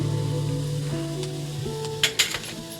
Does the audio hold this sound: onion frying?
yes